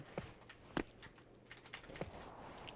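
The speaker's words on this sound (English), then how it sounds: "keyboard clacks" Computer keyboard keys clacking in a few scattered, irregular bursts during a game session in a warm room, fairly quiet and close, with no talking.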